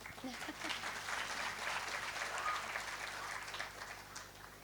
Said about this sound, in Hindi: तालियां खुल के हों।